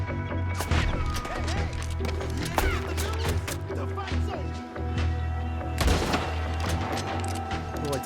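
Sniper rifle fire in the video game Red Dead Redemption II: several sharp, loud cracks spaced a few seconds apart, the strongest near the start and toward the end, over a busy bed of low rumble and game noise.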